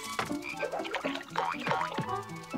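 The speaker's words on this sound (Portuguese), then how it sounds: "Sapos em cima de vitórias régias" Cartoon frogs sitting on water lilies croak in a quick, uneven run of throaty calls, close and fairly loud with no talking over them.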